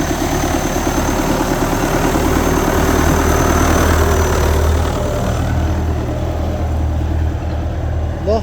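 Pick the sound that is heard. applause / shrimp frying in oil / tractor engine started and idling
tractor engine started and idling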